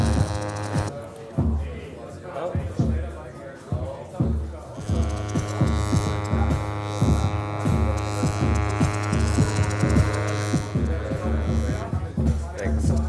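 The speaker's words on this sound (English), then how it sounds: "That's that kind of like ratcheting sound that we can hear, the kind of almost hi-hats." Mordax DATA Eurorack module producing a ratcheting clock pattern multiplied by an LFO, with rapid hi-hat-like ticks repeating over a droning hum on a noisy trade-show floor, while a person talks over the first few seconds.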